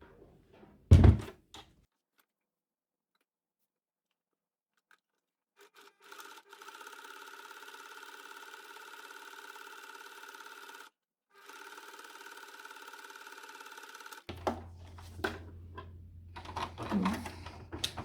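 Sewing machine stitching fabric for a budget envelope wallet, a couple of steady runs of fast, even whirring with a short pause between, a brief thump before and handling noise after.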